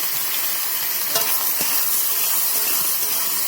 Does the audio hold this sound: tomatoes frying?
yes